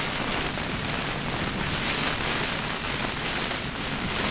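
Strong wind buffets and shakes a tied-out tent on its poles during a severe thunderstorm at a racetrack campsite, a loud continuous roar with gusty surges throughout.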